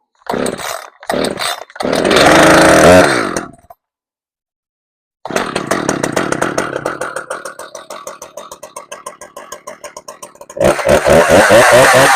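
An Echo CS-590 chainsaw engine starts with short loud bursts, revs hard, cuts out briefly, then settles into a close, rapidly pulsing idle while warming up before revving up again.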